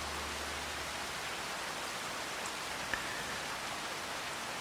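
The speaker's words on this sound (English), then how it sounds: "you can still see the raindrops coming down and you can hear the rain" Steady, even rain falls in Farming Simulator 25 on a Louisiana farm, a continuous broadband hiss with no pauses, heard alone and without any talk.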